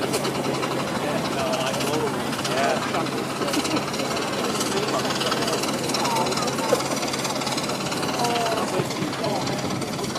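Big steam traction engines chug and clank loudly and continuously at a steam rally working demonstration, a dense rumbling mechanical din with rhythmic knocking and hissing throughout.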